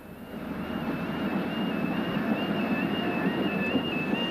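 Onboard a London passenger train leaving Stratford Low Level towards North Woolwich, a steady close rumble of wheels and running gear builds slightly, with a thin sustained whine riding over the noise.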